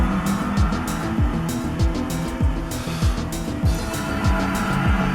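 A race car lapping a circuit in a sim racing game, its engine revving up and dropping sharply over and over as it shifts through gears, loud and close, with tires faintly squealing.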